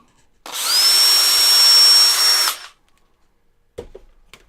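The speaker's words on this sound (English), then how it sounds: "I just turn right around and grab my drill and" A power drill whines steadily for about two seconds, close and loud, then stops, followed by a couple of faint clicks.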